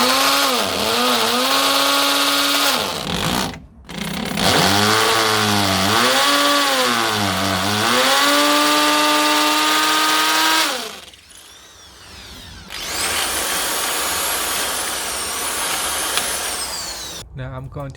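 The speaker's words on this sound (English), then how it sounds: "First we need to drill into the wall to allow us to put in the plug." A power drill bores into a wall to take a wall plug for mounting a Rainbird reticulation irrigation controller, the motor whining loud and close in long sustained bursts that rise and fall in pitch, with short pauses between runs.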